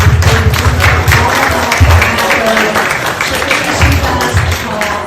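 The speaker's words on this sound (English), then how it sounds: "So round of applause to everybody." Audience applause for library volunteers at a fundraiser celebration, a steady roomful of clapping that holds loudly for the whole stretch, with some thumps mixed in.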